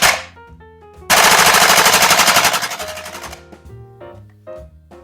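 An airsoft FN SCAR-L MK2 gas blowback replica fires a rapid burst of loud, sharp cracking shots at close range, likely indoors, followed by a few scattered clicks and knocks.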